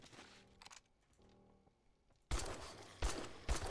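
Gunshots in 7 Days to Die: a quiet stretch of faint game noise, then three loud, widely spaced shots crack out close by, each with a short ringing tail.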